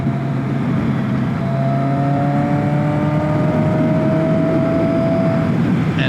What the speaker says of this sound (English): It's definitely a very rev-happy engine platform.